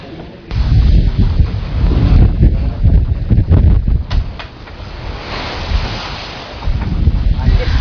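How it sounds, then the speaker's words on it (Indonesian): Strong wind and rolling sea swell on the open Java Sea, about 46 miles offshore, with close, steady buffeting rumble and rushing water that dips briefly midway. "lokasi saya berdiri ini adalah di perairan Laut Jawa"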